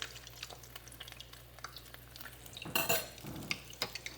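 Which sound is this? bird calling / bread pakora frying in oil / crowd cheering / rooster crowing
bread pakora frying in oil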